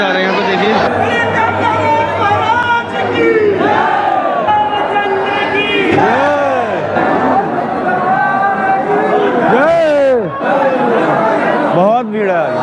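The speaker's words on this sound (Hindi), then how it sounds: "बहुत भीड़ है, बहुत।" Dense crowd of pilgrims at a temple in Chitrakoot, loud overlapping chatter and shouts close around, voices rising and calling over a continuous babble of many people packed together.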